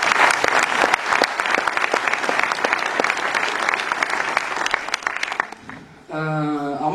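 An audience at a Réunion Island business gathering bursts into sustained, dense applause for about six seconds before it drops away and a voice takes over near the end.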